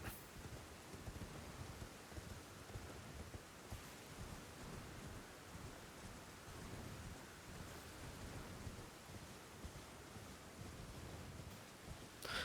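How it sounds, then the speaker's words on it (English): Steady rain with rumbling thunder in the video game Elden Ring, a dense broadband hiss holding at an even level throughout with no speech. "Like how when you enter the Mist Woods, the rain just stops."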